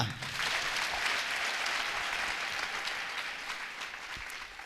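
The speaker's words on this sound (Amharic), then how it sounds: "ጭብጨባ እልልታ" A church congregation applauds in a dense, steady wash of clapping that fills the room, heard at a moderate distance and slowly easing off; no distinct ululation stands out.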